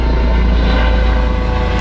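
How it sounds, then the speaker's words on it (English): A helicopter flying overhead makes a loud, steady low drone of rotor and engine noise that holds without break. "Helicopter."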